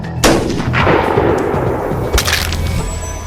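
Gunfire in PUBG on the Erangel map, with a loud shot at the start followed by a sustained echoing tail, and a second sharp crack near the end, all without talk.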